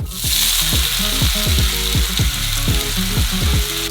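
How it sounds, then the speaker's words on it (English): Loud, continuous sizzling of vegetables frying in a pan, with repeated scraping and clinking as they are stirred close by. "We're going to send all of our vegetables into the frying pan"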